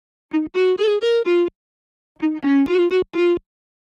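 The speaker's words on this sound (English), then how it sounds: "It's actually a sample from a violin" A bright, buzzy lead made from a heavily distorted violin sample plays two short phrases of clipped notes, each a quick run of four or five tones, with a pause between them.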